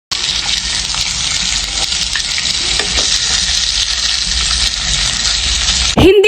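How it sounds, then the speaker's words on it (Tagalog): Maling luncheon meat fries in oil with a loud, close, continuous crackling sizzle that holds steady before a sudden thump at the very end. "kinuha ko na nga rin itong maling para iprito na rin"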